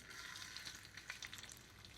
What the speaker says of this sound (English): Straight away, that means that they're cooking, frying, crisping up.